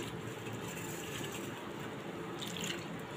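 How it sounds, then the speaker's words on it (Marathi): Water from washing dried shrimp (jawla) is drained off, giving a steady splashing, running-water wash that lasts throughout at moderate level with a brief brighter splash near the end. "आता हे पाणी मी गाळून टाकणार आहे।"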